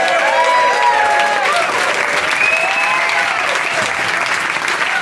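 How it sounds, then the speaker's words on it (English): An audience at a comedy show claps loudly and continuously, a dense wash of applause with scattered cheers that holds steady throughout. "Now we have a huge round of applause for Mr. Scott Capurro."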